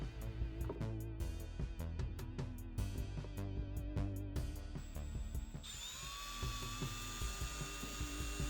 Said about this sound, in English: I'm going to drill the holes in the sides by eye.